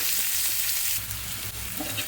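Onions fry in a pan with a loud, steady crackling sizzle close up, continuous throughout with slight surges.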